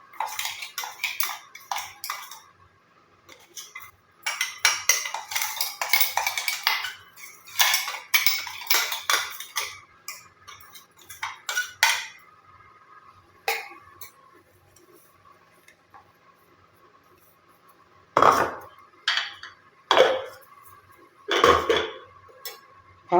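Ground herbal powder with mustard seed and black cumin is tipped into a bowl for a homemade hair oil, heard as repeated clinks and scrapes of metal utensils against the bowl in bursts with quiet gaps between them, with no talking.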